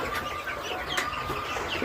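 Chickens on a poultry farm cluck softly and continuously at close range, with a steady murmur of fowl calls and faint background noise.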